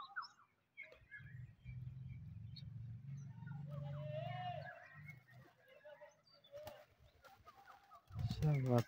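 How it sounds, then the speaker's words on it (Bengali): Pigeons out grazing in a field in Rajshahi give a steady low, murmuring coo for several seconds, then it fades amid scattered outdoor noise and brief voices. "19টা কবুতর আছে"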